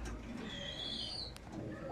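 A male flying pigeon gives a soft, low coo, faint and close, amid quiet background noise.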